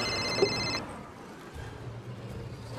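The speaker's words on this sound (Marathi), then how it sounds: "सर फोन वाचतोय तुमचा." A mobile phone ringtone trills for under a second against a murmuring background, then cuts off abruptly.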